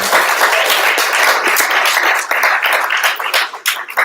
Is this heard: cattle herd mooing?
no